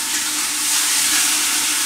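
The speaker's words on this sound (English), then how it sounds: "You get the chicken first and you get it like all blondie and all crispy." Chicken pieces fry crisp in a hot pan, giving a steady, loud, close hiss and crackling sizzle throughout with no talking.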